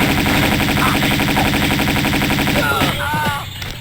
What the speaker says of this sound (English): We'll hear gunfire soon.